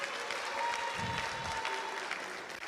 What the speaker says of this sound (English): But you should clap for someone like that.